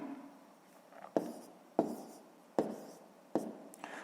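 A pen writes numbers by hand on paper while solving a fifth-grade math exercise, giving close, quiet scratchy strokes with four sharper taps at regular intervals.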